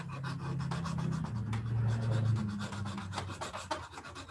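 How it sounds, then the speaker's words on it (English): Steady rubbing and rasping of sandpaper on carved cottonwood, close and quiet, with continuous back-and-forth strokes. "Cottonwood is great for sanding"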